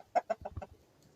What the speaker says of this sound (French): Le beau coq.